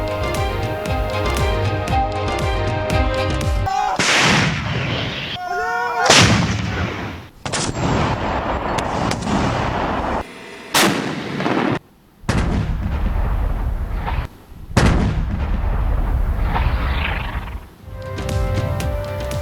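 Pakistani army artillery fire in a border clash with Afghan forces, heavy booming blasts and sharp gunfire bursts repeating loudly across the stretch, interspersed with brief quiet gaps.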